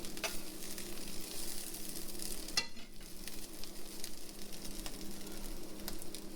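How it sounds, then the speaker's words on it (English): Tortillas fry in hot oil with a steady, dense crackling sizzle close by, a brief clatter of tongs cutting through partway, with no voices. "we're going to put them in this oil and cook them until they're crispy"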